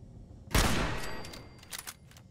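A single loud rifle shot in Fallout 4 booms with a long decaying echo, followed by a few quieter clicks and rattles.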